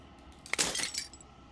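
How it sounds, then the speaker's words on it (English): Glass shattering in the game Slay the Princess: a single bright crash of breaking glass with a tinkling tail of falling fragments, fairly close and alone, no talk. "As the final fragment of glass shatters"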